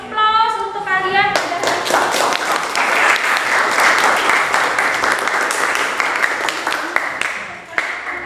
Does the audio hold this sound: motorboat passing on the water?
no